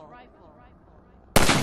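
A single loud rifle shot cracks out in Half-Life 2 Episode One as the latch is shot, sharp and close after quiet background, its blast ringing broadly until the end.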